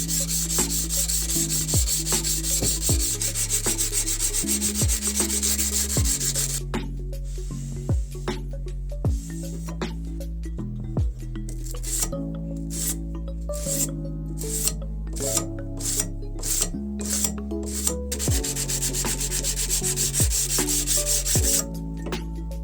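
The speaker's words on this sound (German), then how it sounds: "da ich hier sowieso vorhabe, das Ganze nochmal per Hand zu schleifen" Someone hand-sands a World War II knife blade during a restoration, giving repeated close, rhythmic rasping strokes that run back and forth steadily.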